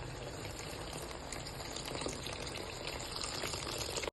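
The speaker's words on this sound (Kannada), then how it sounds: "ಈಗ ಬಿಸಿನೀರು ಹಾಕ್ಕೊಳ್ಳೋಣ." Hot water being poured into a pot of oil for mushroom pulav, a dense continuous sizzling and gushing hiss held steady at close range until it cuts off abruptly at the end.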